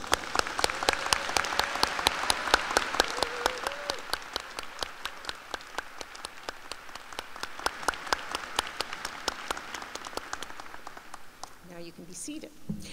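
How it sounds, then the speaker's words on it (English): Audience at a university convocation applauding steadily for about twelve seconds, a dense wash of many hands with individual claps standing out, fading slightly toward the end as a voice briefly cuts in. "Now you can all applaud."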